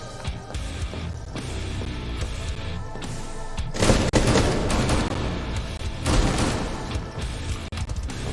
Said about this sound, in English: Try grenade launcher.